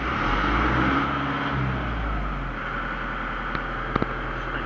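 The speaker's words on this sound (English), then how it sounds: "So now I'll start the tractor." McCormick tractor engine running after starting, a steady low rumbling idle with a broad mechanical hum, close and continuous, with a couple of brief clicks near the end.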